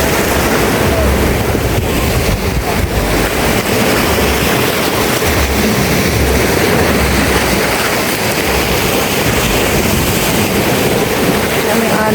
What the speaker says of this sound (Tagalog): Grabe yung alon.